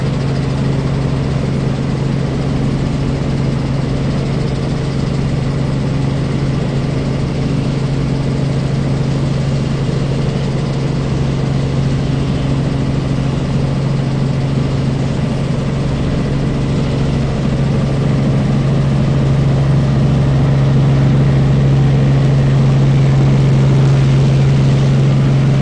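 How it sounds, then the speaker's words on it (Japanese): Loud, steady low engine drone with a strong humming tone, continuous throughout, like riding inside a helicopter cabin over Tokyo. "東京でヘリコプターに乗るのは初めてです。"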